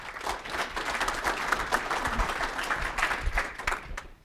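An audience claps steadily for several seconds to welcome a speaker at a talk on sand seas of the solar system, a dense even patter of applause filling the room.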